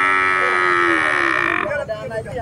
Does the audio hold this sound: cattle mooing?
yes